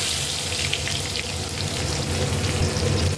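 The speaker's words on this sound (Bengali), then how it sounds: "পেঁয়াজটা একটু ভালো করে আমি ভেজে নেবো" Chopped onion frying in oil with whole spices (cardamom, cinnamon, bay leaf, cumin) for a crab curry, giving a steady close sizzle and crackle throughout with no talk.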